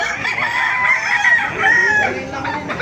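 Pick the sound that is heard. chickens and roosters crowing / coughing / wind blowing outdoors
chickens and roosters crowing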